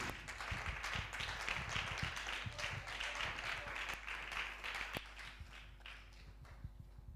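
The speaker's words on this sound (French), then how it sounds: "Avec vos applaudissements, s'il vous plaît." A seminar audience applauds to welcome a speaker, a steady wash of many hands clapping that holds for several seconds at moderate distance before thinning out toward the end.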